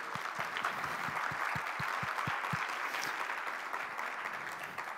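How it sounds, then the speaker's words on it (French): A church congregation applauds steadily, a continuous dense wash of many hands clapping at moderate loudness with a few distinct close claps, lasting the full five seconds. "on les applaudit les Centrafricains"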